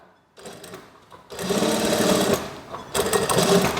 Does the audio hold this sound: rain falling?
no